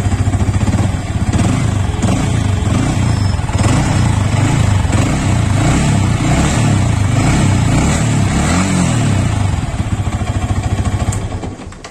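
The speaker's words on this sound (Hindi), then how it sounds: "तो इधर अभी सुनाते हैं एग्जॉस्ट का साउंड भाई" A Yamaha R15 V3 motorcycle runs with its exhaust close by, a loud, steady, throbbing engine note with slight rises in revs, holding for about eleven seconds before cutting off near the end.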